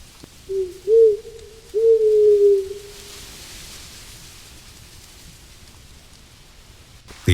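An owl hoots in a quiet forest: a short low call, then a longer drawn-out hoot, followed by several seconds of near silence with faint background hiss.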